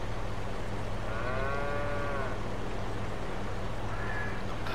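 Cattle in Farming Simulator 22 give two drawn-out moos, the first longer and the second shorter, over a constant loud game background hum with no talk.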